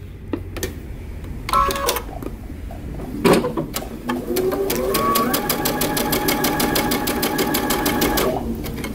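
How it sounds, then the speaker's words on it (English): A home sewing machine stay stitching fabric for a tee shirt or vest: after a couple of brief starts, a steady, close, rapid stitching hum runs for several seconds, then stops. "we're going to start about 3 inches from that dot, and we're going to stay stitch"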